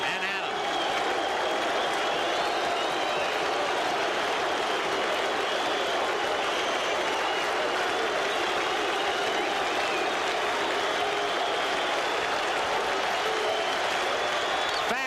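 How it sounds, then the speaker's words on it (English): Baseball stadium crowd at the 1986 World Series, Game 5 between the Boston Red Sox and New York Mets, a dense sustained roar of cheering and noise, loud and steady, with commentary voices talking over it. "the crowd stays up and at him"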